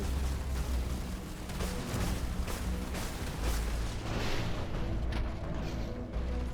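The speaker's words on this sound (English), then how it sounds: "Our combat launcher has a lot of missiles." Missiles streaking from a combat launcher on a mech in Phantom Brigade, a continuous roar of launches and rumbling blasts with repeated whooshes layered over heavy combat noise.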